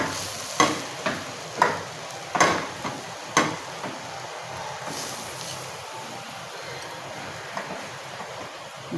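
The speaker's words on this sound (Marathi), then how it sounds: "बेसन पीठ मस्त एकजीव करायचं आहे त्यात आणि हलवून घ्यायचं आहे त्याला कांदा आणि मिरची याच्यामध्ये" Besan flour being stirred into onion and chili in a pan for zunka, a spoon knocking the pan in several sharp taps early on over a soft, even frying hiss that settles into quieter stirring.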